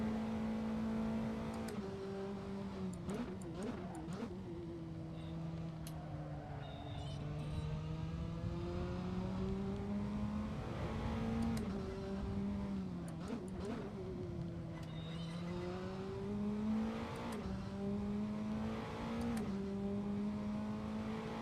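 A naturally aspirated Praga R1 race car engine in the Assetto Corsa racing game, revving up and down through gear changes with a steady tonal drone that rises and falls over a couple of flying laps, heard close and alone.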